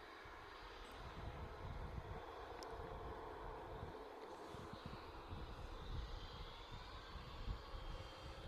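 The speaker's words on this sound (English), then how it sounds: "A320neo off to Amsterdam." EasyJet Airbus A320neo jet departing Manchester Airport for Amsterdam, a steady distant engine roar with broadband rumble and wind noise, holding even throughout.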